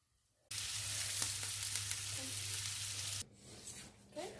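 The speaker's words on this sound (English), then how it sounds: "prepping my lamb with my seasoning so that I can seal it on both sides in my pan with butter and oil" Seasoned lamb sears in a pan of butter and oil, a loud, close, steady sizzle that lasts about three seconds and then cuts off abruptly, leaving quieter kitchen sounds.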